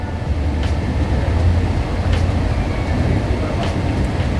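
Ahmedabad–Kevadiya Jan Shatabdi Express, a fairly new train, heard from inside its Vistadome coach: a steady loud low rumble of running wheels and carriage with faint periodic clicks, no talking.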